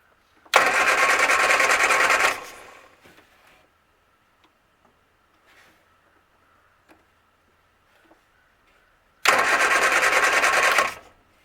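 Austin Healey Sprite engine cranking over without starting, two loud bursts of starter churning about two seconds each, separated by a long quiet gap with faint clicks.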